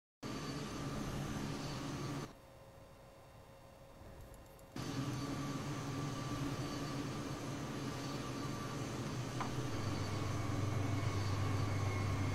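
Continuous droning airplane engine in Microsoft Flight Simulator X, steady and loud, briefly dropping to a quieter hum before resuming at full level.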